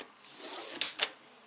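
A masticot paper trimmer slicing through an A4 sheet at 15 cm: a soft rising scrape followed by two sharp, close snapping cuts and a final clack as the blade comes down, with no voices.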